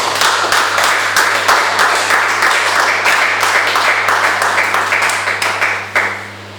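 A church congregation claps and applauds together at worship, a loud, steady burst of hand-clapping that carries on for several seconds before tapering off at the end.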